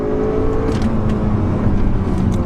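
A Honda Civic Type R FN2 with a manual gearbox revs hard toward its VTEC range. A loud, sustained engine drone is heard from inside the car, with no talking.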